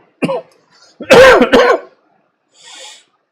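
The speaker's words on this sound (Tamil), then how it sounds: "சாரி கொஞ்சம் இருமல்" Someone nearby coughs and clears their throat in a couple of short, harsh bursts separated by quiet pauses.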